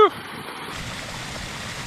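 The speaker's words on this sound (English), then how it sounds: "Little stream." A small stream trickling along at night, its steady broadband wash of flowing water continuous and fairly close after a brief louder onset.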